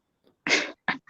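A single short sneeze bursts out close by, followed by two quick breathy sounds, in an otherwise quiet room.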